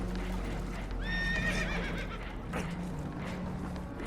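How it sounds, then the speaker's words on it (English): Spooked horses whinny and neigh aboard a leaking boat in Red Dead Redemption 2, a shrill rising cry over a steady low rumble of water and engine noise, with faint hoof clatter. "Horses are spooked, and we're taking on water."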